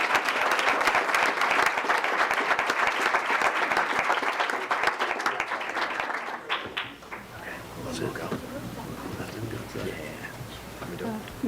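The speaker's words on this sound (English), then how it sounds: "Big round of applause for such an amazing accomplishment." Applause from a room of attendees at a Washington Township Public Schools board of education meeting: loud, brisk clapping for about six seconds, then it fades out into quieter room noise and scattered voices.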